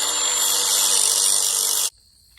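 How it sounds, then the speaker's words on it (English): A fuel tank fitting being sanded by hand for a rolling-wheel Duramax gas tank, a steady loud rasping scrape that runs continuously for about two seconds, then stops abruptly. "you got to sand this so the nut can go on."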